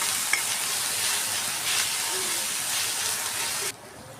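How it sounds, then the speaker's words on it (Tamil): Ginger garlic paste and onions sauté in a pan for a crab masala, giving a close, steady sizzle with the scrape of stirring before it cuts off abruptly. "இஞ்சி பூண்டு சேர்த்து நல்லா வதக்கிட்டுக்கலாம்"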